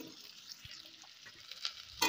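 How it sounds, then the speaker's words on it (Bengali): Washed, cut potatoes frying in hot oil in a pan, giving a faint, steady sizzling hiss that runs the full short stretch with a slight flare at the end. "নিয়ে ওর মধ্যে আমি কেটে ধুয়ে রাখা আলুগুলো দিয়ে দিচ্ছি। আলুগুলো ভালোভাবে লাল লাল করে আমি ভেজে নেব।"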